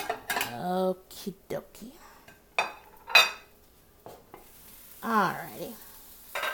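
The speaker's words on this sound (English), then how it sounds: "I'm just going to go ahead and take some out right now and put it in a little plate so you can see what it looks like" Fried brown rice is scooped onto a plate with metal utensils, giving sharp scrapes and clinks against the pan and dish in scattered bursts, with a faint sizzle and brief casual remarks from a nearby voice.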